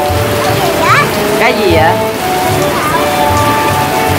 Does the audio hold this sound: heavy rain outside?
yes